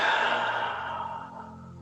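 A single deep, slow breath is drawn and released close to the mic during a guided meditation, with a soft airy sigh-like exhale fading gradually.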